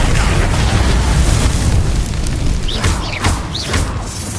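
Spell explosions from Confringo and Bombarda blasts in the video game Hogwarts Legacy, a dense roaring rumble of booms with a few whooshing bursts near the end, loud and continuous.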